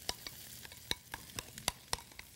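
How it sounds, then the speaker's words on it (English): Olives and lemon juice stirred in a pan, a spoon tapping and scraping in sharp, irregular clicks over a faint steady sizzle. "we're going to give this a little stir"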